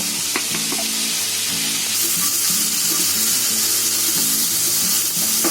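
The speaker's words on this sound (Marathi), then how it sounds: "आता ही भाज्या सर्व मिक्स करून घेतले." Mixed vegetables with coriander powder and turmeric, no onion, frying in a pan for paneer bhurji, a continuous close sizzle with stirring and clinks of a spoon, no talk.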